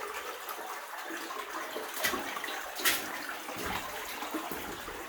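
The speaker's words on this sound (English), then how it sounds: "the water running down the rails again here" Water trickles and runs along the rails inside an abandoned gold mine, a faint, steady wet hiss in an enclosed tunnel, with a couple of brief louder splashes or knocks partway through.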